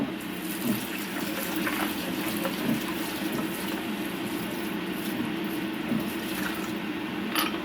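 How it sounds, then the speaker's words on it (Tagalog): Soup ingredients for a Hong Kong style Chinese soup are washed under a running kitchen tap, a steady close rush of water into a sink with small splashing changes as the food is rinsed, and no talking. "So, hugasan rin natin to."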